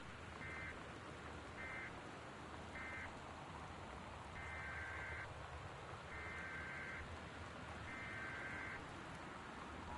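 Torrential rain pours steadily in the game Gone Home, a dense continuous wash of rainfall heard alone, broken by a series of short, regular electronic alert beeps.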